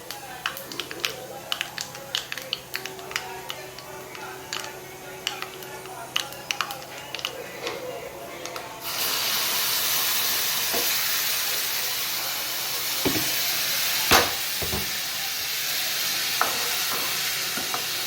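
Cumin seeds and asafoetida crackle in hot oil with light stirring, then a raw-mango chutney drops into the pan and a loud, steady sizzle takes over, marked by a few sharp spatula clanks.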